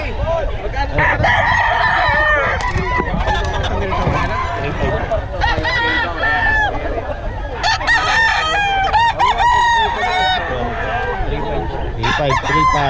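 Kelso gamecock roosters at a Philippine game farm crow repeatedly and cluck loudly at close range, with more birds and honking fowl behind them and people talking throughout.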